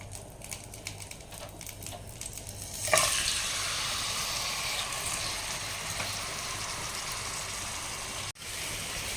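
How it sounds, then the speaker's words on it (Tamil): Marinated chicken hits hot oil in an open pan with a sudden burst of sizzling that settles into a steady, close frying hiss, quieter scraping before it and no talking. "ஸோ இப்போ நம்ம மேரினேட் பண்ணி வச்சுருக்கிற சிக்கன் வந்து சேர்த்துக்கலாம்."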